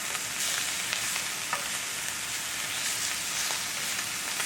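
Ham sizzling in a hot pan for red-eye gravy, a dense, steady frying crackle heard close and loud with no voices over it.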